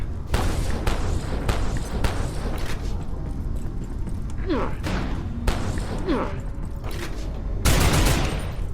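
Gunfire rattles through a fight in the video game Abiotic Factor, with repeated bursts of shots over a dense, noisy mix of mechanical and whooshing effects.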